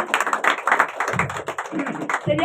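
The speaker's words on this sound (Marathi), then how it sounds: "त्यासाठी एकदा जोरदार टाळ्या वाजवून आपण विनयजींचं स्वागत करूया" A concert audience claps to welcome a singer at the start of a music recital, brisk scattered applause over a few seconds, with a voice heard briefly at the end.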